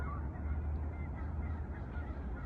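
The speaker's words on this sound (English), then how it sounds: "Boy, these geese are loud." Geese honk loudly and repeatedly outdoors, their calls layered over one another in a continuous noisy chorus close by.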